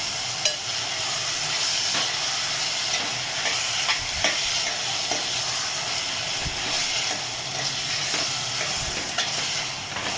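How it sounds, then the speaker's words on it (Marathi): Onion and tomato sautéed on high heat for paneer rice, a steady loud sizzle and hiss from the pan with occasional stirring scrapes, close and continuous throughout, no talking. "फास्ट गॅसवरच आपल्याला हे मस्त असं परतून घ्यायचं आहे"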